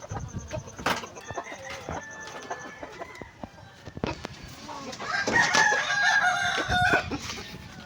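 A rooster crows amid the clucking of ten hens in a breeding flock, close by, with some speech and farmyard noise mixed in.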